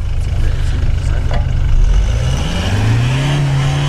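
Off-road car engine revving up loudly and close, rising in pitch as it climbs, with a steady low rumble throughout; a voice is faintly audible beneath.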